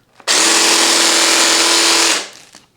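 A jigsaw runs with a Parkside PASA 1200 B2 chip and dust extractor attached through an adapter and spiral hose, giving a loud, steady whining roar for about two seconds that starts abruptly and then winds down.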